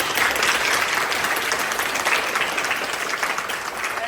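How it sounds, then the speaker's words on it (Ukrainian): Audience applause for first-year acting students at a university professional college's practical acting showcase, a steady dense clapping that fills the room from start to finish with no voices. "Давайте підтримаємо їх оплесками."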